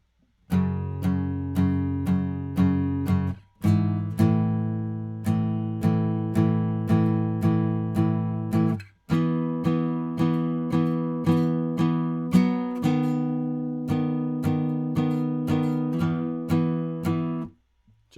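Guitar chugging out a riff, steady repeated picked notes in even rhythmic bursts with brief pauses between phrases, loud and close, heard alone without speech.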